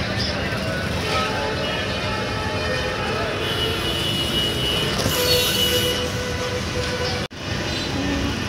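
Train at an airport rail station, a loud rumbling wheel roar with metallic squeal and clatter close by, while people talk over it.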